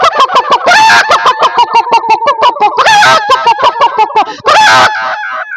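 A mimicry artist's voice imitates a hen clucking, with a rapid series of short, loud, rhythmic clucks broken by a few longer squawking bursts, close and alone.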